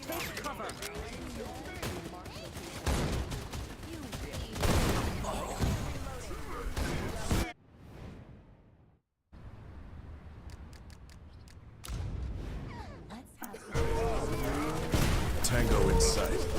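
Video game gunfire in Wild Assault, dense rapid bursts of automatic shots in loud stretches, broken by a short quiet gap before firing resumes, with voices talking over parts.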